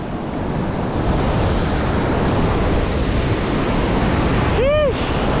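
Big storm waves crash and surge without pause while strong wind roars across the microphone at the seashore during a typhoon, loud and unbroken.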